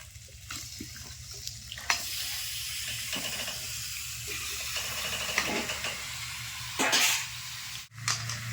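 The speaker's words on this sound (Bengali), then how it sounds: "এবার মশলার সঙ্গে মাংসটা কিন্তু খুব ভালো করে কষিয়ে নেব" Chicken pieces fry with spice masala in a pan for chicken kosha, sizzling and hissing steadily up close, with stirring scrapes and occasional louder spits.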